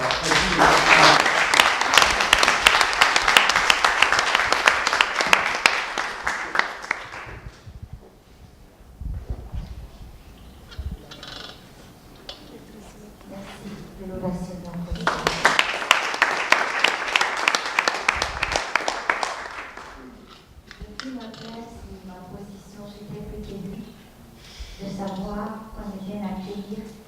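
Audience applause at a science café event, with long bursts of loud dense clapping that fade and then return, and a voice speaking between the bursts.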